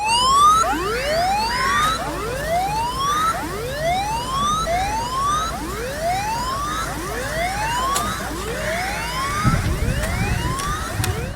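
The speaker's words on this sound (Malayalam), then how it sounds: "ഒടുവിൽ അപായമില്ല എന്ന സൈറൻ മുഴങ്ങി" A mock drill warning siren wails, rising and falling in repeated sweeping cycles, loud and steady for the whole stretch, with faint background noise and no voices.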